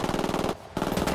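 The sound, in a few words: machine gun fire from Ghost Recon Wildlands video game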